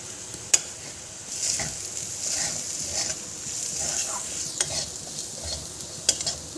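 Moong dal frying in a pan with a spoonful of gram flour, a soft continuous sizzle under repeated scraping strokes of a spoon, with a few sharp clicks against the pan, no talking.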